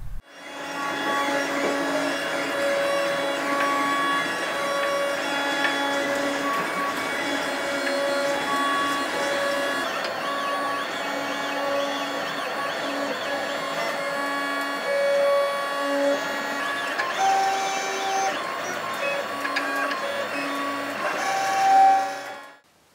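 A 3D printer prints a linear actuator part, its stepper motors whining and warbling in shifting tones as the head moves, steady and fairly loud for the whole stretch with a brief rising surge near the end.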